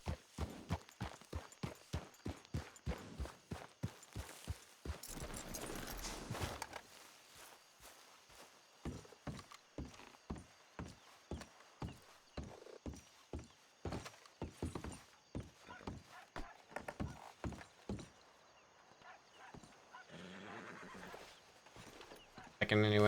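In a video game, a horse clip-clops along in a steady, even rhythm of hoofbeats, with a neigh and whinny in the middle and another near the end. The sounds are fairly close, and a voice talks over them.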